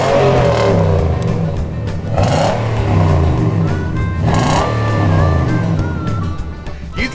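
Engine revving hard through a stock exhaust system, loud and close, with repeated rising and falling vroom sweeps over a throaty idle rumble and no talk.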